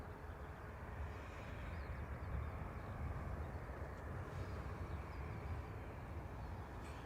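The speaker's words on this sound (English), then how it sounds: "Aer Lingus from Dusseldorf." Aer Lingus airliner arriving from Dusseldorf at Dublin Airport, a distant steady jet roar rumbling low and even throughout, with no talk.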